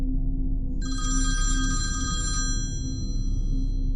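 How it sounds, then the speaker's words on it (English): A telephone bell rings in a shrill trilling burst, fairly close, over a low steady background hum. "startled awake by her phone ringing."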